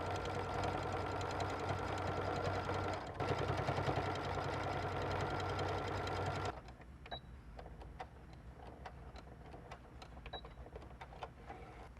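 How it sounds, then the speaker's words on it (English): A sewing machine stitches a second seam on a garment lining, a steady dense mechanical whir running for about six seconds, then it stops and only faint clicks and light handling noises remain. "sew about 1/8 of an inch away from your first seam"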